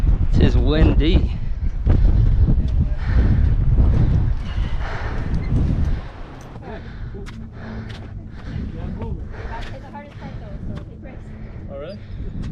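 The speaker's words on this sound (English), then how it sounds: "it is windy." Strong gusting wind on the exposed Angels Landing hiking trail in Zion National Park, buffeting the microphone in loud roaring blasts that ease to a lower steady rush, with people talking nearby.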